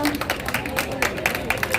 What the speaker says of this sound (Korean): 한번 박수 부탁드립니다